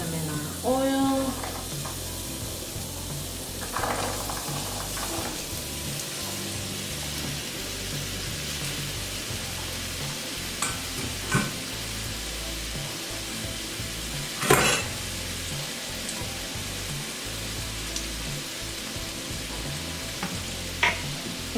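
Tortillas fry in oil for enchiladas, a steady close hiss and crackle of sizzling with occasional pops and light pan clinks.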